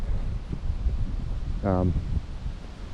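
Wind rushes steadily across an open field, buffeting the microphone with low rumbling gusts. A short voice-like tone cuts in briefly midway.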